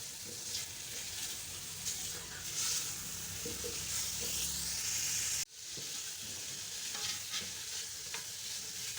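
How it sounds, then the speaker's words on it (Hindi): Chicken with spices sautéing in a pan over low heat, a steady soft sizzle with stirring scrapes throughout and a brief dip in the middle, no voices. "हल्की आंच पे इसकी मैं 5 मिनट भुनाई करूँगी।"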